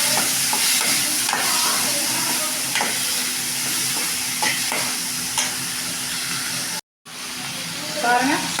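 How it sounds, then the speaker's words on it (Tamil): Green and dried chillies, onion and tomato sauté in a pan with a steady loud sizzle, broken by repeated scraping stirs and a brief cut in the sound. "பெரிய வெங்காயம் 1ங்க, தக்காளி 1ங்க. எல்லாம் வதக்கிக்கலாங்க."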